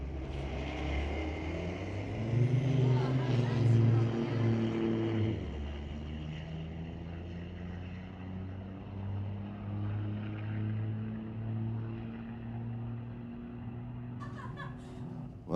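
An old Fargo truck launches down a street legal drag strip, its engine a loud, low droning roar with rising pitch harmonics that settle into a steady pull, with faint crowd and track noise around it.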